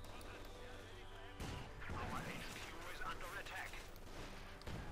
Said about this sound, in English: Bit of firing around here.